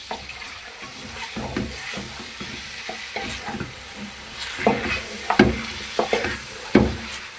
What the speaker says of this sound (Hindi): ये देखिए मैं मिक्स कर रहा हूँ आपके सामने।